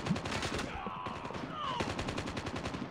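Rapid automatic gunfire in a Call of Duty Mobile Domination match, a dense run of sharp shots fired steadily from close range across the whole stretch, with faint tonal game sounds in the background.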